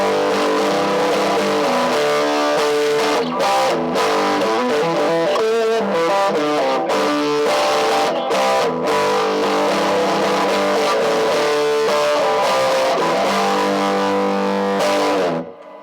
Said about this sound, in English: Now let's go ahead and put the tube screamer into action.